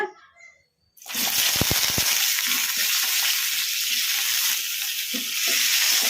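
Cut brinjal dropped into hot oil in a kadai, setting off a sudden loud, steady sizzle after a brief quiet moment, with a few sharp clinks of stirring near the start.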